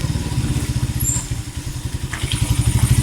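Motorcycle engine idles close by, a steady rapid low putter with even pulses that holds throughout and swells slightly toward the end.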